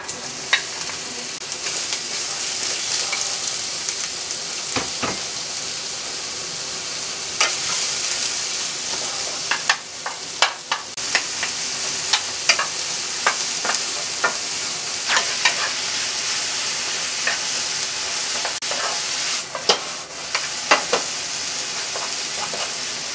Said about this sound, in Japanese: それでは具材を炒めます。